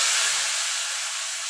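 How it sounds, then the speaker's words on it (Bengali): Ash gourd pieces dropped into hot oil for frying, giving a loud, continuous close-up hiss of sizzling oil that eases slightly over its short span. "এবার চাল কুমড়োগুলো ছেড়ে দেবো"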